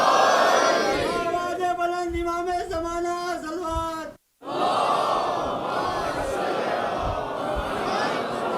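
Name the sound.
audience chanting religious slogans at a majlis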